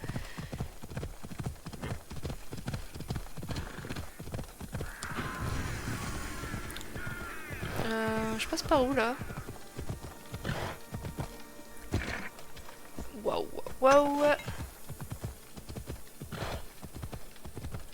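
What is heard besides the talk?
horse hooves in a video game (Assassin's Creed)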